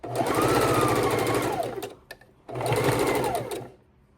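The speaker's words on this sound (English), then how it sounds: "Drive that sewing machine stitching right up to that pen" Two bursts of fast sewing machine stitching on a table runner, loud and close, separated by a short pause, each with the motor whirring up and winding down.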